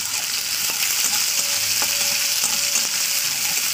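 Beans frying in a little oil in a wok, a loud continuous sizzle close up with a few soft spatula taps and stirring knocks through it.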